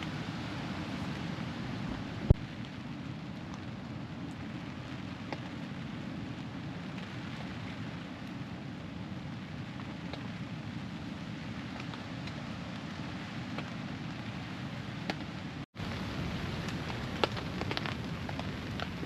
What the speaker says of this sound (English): It's just starting to rain a little bit in the air.